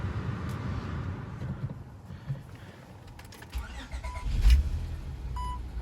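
A 2003-2007 Honda Accord V6 with a six-speed manual gearbox runs just after an oil pan replacement, giving a steady low rumble at close range with a couple of faint electronic chimes near the end.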